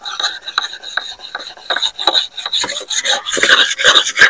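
A file rasps repeatedly across a new oil palm harvesting chisel blade to sharpen its edge, with steady back-and-forth scraping strokes, close and fairly loud, growing denser toward the end.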